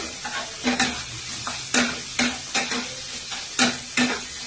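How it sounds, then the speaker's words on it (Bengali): Pointed gourd filling with garam masala frying in a pan, stirred briskly: loud sizzle under a run of about eight sharp spatula scrapes and clinks at uneven intervals, close up with no talking. "এটাকে আমি ভালোভাবে নেড়ে চেড়ে নিচ্ছি"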